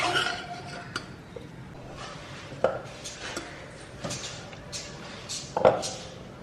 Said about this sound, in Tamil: இப்போ நம்ம ரைஸை வந்து உடையாமல் கிண்டி வச்சுக்கலாம்.